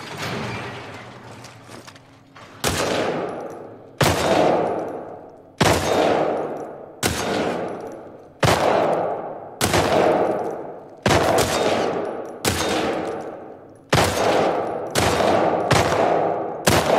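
A firearm in The Last of Us Part II empties a full magazine in about a dozen evenly spaced, loud, close shots, each ringing out and decaying before the next, with no talk.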